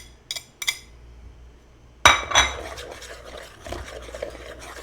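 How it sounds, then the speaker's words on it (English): Butter being whisked into a plum tart mixture in a bowl: a couple of light clinks, then a sudden busy stretch of scraping, stirring and tapping against the bowl that carries on steadily, fairly close. "we're gonna whisk in our butter"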